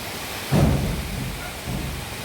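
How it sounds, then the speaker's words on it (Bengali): Heavy rain pours down outside in a steady hiss with a low rumble under it. Two soft swells of louder noise rise and fade, and no one speaks. "প্রচুর জোরে বৃষ্টি আসছে"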